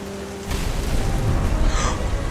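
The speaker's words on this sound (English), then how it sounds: "The thunder sounded much too close and full of angry power." Heavy rain with low thunder rumble in the video game What Remains of Edith Finch: a steady, dense wash of noise that starts suddenly and continues loudly with a deep rumbling underneath, and no voices.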